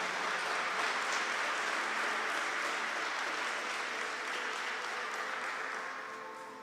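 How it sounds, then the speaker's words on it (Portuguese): A church congregation claps steadily for Our Lady, a dense, continuous wash of applause that holds near full strength before tapering off toward the end. "Pode aplaudir Nossa Senhora."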